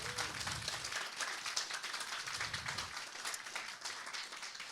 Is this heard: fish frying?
no